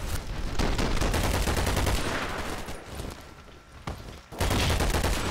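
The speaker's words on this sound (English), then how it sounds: "Oh, I picked up the Uzi!" Rapid bursts of Uzi fire crackle in a video game, dense overlapping shots with explosion-like thumps, loud and sustained with a brief lull near the end.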